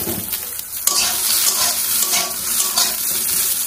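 Egg, potato and carrot frying together in a pan after the lid is lifted, a loud continuous sizzle with a sharp clatter near the start and scraping stirs throughout.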